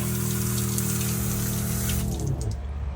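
Water sprays hard against the ceramic-coated underside of a new Ford Bronco, a loud, steady hiss over a humming pump that cuts off near the end.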